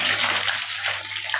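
Okra dropped into hot oil, a loud, steady hiss and sizzle of frying up close, with no talk.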